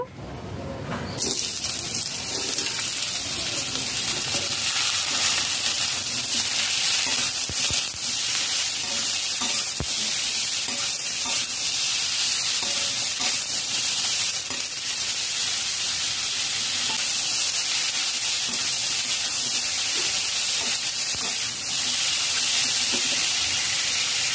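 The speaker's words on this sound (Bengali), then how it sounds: "কিছুক্ষণ পর তেল গরম হয়ে গেছে। ঝিঙে আলু দিয়ে দেব।" Ridge gourd and potato pieces hitting hot mustard oil in a kadai erupt into a loud, steady hiss of frying that starts abruptly and sizzles on continuously, with faint scraping clinks now and then.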